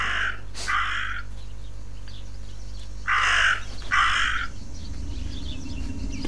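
Crow cawing in the video game Martha is Dead: several harsh caws in short bursts, one pair near the start and another pair about three seconds later, over a low steady ambient hum.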